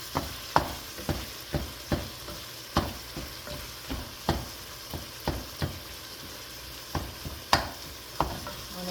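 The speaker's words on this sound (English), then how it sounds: "you're going to cook the meat till it's brown, and you're going to chop it up into tiny pieces" Meat browning in a pan for a homemade Bolognese sauce, a steady sizzle broken by regular scraping and tapping as a utensil chops it into tiny pieces, close and rhythmic.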